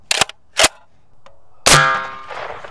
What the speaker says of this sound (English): Moving up to the SCAR, shooting around a 308.